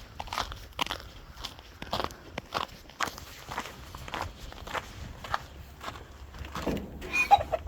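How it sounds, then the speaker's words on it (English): Breeding hens cluck softly now and then among shuffling footsteps and scattered crunching, close by in a quiet outdoor pen. "That's all the hens I got right now."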